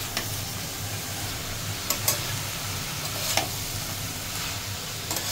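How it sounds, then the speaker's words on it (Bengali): Bottle gourd pieces frying in hot oil with spices give a constant close sizzle, with a few crisp clicks as a spoon stirs the pan. "ভাজার তেলের মধ্যে লাউ দিয়ে দিল"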